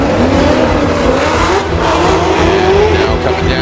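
Formula D drift cars battle at St. Louis, engines screaming near the limiter and tires squealing in a loud, continuous wall of sound, a commentator faintly under it.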